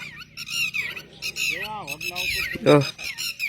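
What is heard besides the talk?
common myna birds squawking near a riverside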